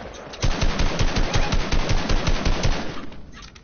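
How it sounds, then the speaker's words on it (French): Rapid bursts of automatic gunfire crackle loud and close in a PS4 shooter game, a dense fusillade of repeated shots running steadily before tapering off near the end. "je crois qu'on me tire dessus encore"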